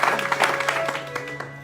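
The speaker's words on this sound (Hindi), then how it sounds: "यीशु के जलाल के लिए जोरदार ताली।" A church congregation claps loudly in praise, a dense burst of many hands with sharp individual claps over a sustained hum, tapering off toward the end.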